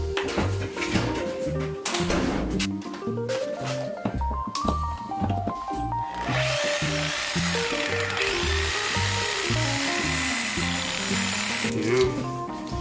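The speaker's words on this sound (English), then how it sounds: "Try a different saw. I'm only doing a Sawzall part for the fun of the" A Sawzall reciprocating saw buzzes in uneven, rattling bursts as it cuts through meat at home, close and loud, with the pitch shifting as the blade bites and speeds up.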